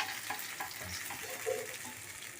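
Pempek fish cakes fry in a pan of oil with a soft, continuous sizzle and faint crackles, heard quietly and close with no talking.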